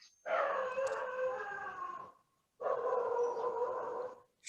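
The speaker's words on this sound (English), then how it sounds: "it seems some of my dogs are Well, answering." Several dogs howling together in two long drawn-out bouts with a short pause between, fairly close and clear, with no talking over them.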